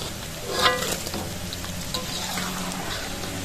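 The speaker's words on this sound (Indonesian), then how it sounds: "Tipsnya kalau untuk menggoreng sate tahu ini jangan terlalu kering ya" Tofu satay frying in hot oil, a dense continuous sizzle and crackle up close, steady throughout with a brief louder spatter near the start and no talk.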